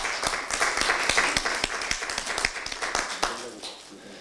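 Applause breaks out at a Democratic Party joint meeting of the supreme council and national committee chairs: a modest group claps in sharp, fairly sparse strokes for about four seconds before tapering off.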